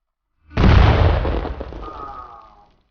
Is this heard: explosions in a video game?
yes